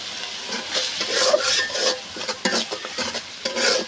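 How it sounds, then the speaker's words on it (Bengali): A ground cumin and garlic paste fries in a pan, stirred with a spatula: close, uneven bursts of scraping and sizzling that swell and fade repeatedly over a soft hiss. "জিরা বাটা, রসুন বাটা দিয়ে দিচ্ছি, দিয়ে মশলাটা একটু কষিয়ে নিচ্ছি"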